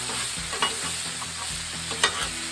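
Venison frying on a hot outdoor Blackstone griddle gives a steady loud sizzle and hiss throughout, with a few soft scrapes and taps of a utensil stirring the meat, close up and with no voices.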